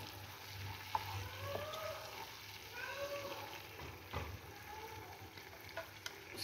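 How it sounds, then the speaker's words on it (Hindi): Turmeric being stirred by spoon into an eggplant biryani mixture in a pan, giving a soft continuous scraping and stirring with a faint sizzle of frying underneath, steady and close throughout. "ये भी जाएगी इसमें। इसको अच्छी तरह से मिक्स करेंगे।"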